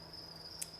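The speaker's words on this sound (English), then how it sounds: "So these are baby crickets that went in." Baby crickets at an indoor cricket farm chirp in a steady, continuous high trill, close and fairly quiet, with one slightly louder chirp burst near the end and no voices.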